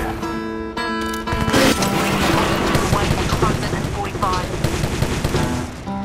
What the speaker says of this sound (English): they just shooting grenades at us